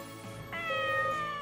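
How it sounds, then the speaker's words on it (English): A cat meows once in the farming video game Pioneers of Olive Town, a clear, drawn-out, rising then falling call set over soft background music. "Ah, a cat. He is undoubtedly after my fish."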